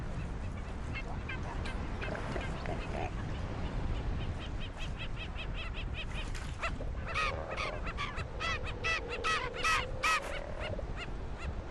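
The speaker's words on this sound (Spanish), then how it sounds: "Las aves carroñeras se remolinan expectantes alrededor de la hembra." Scavenging seabirds call around a seal colony on a Crozet beach, with many rapid, repeated nasal cries rising out of steady surf-like wind noise, growing busier and louder in the second half.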